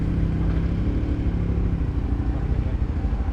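A BMW R1200 boxer twin motorcycle engine runs inside a train tunnel, a steady, loud, throbbing low drone that fills the enclosed space with no talk over it.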